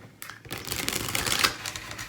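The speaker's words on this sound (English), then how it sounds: "One more shuffle." Tarot cards being shuffled by hand in a quiet room, a dense run of crisp papery riffles and flicks lasting about two seconds after a brief pause, close and moderately loud.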